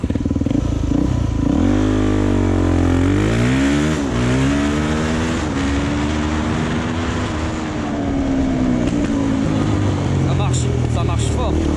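A Suzuki DR-Z motorcycle fitted with an FCR 39 carburetor makes a standing start, its engine revving loudly in rising sweeps through the gears and then easing off, close and continuous throughout.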